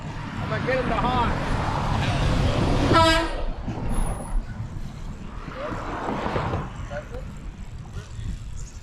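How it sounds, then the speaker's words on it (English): A vehicle horn sounds once, a short loud blast amid steady road noise and people talking nearby. "I'm gonna get him to honk."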